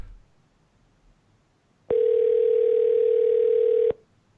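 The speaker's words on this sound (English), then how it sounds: "Calling Michael Butt." A telephone dial tone: one steady, unbroken electronic tone lasting about two seconds, clear and loud against a faint background, starting and stopping abruptly.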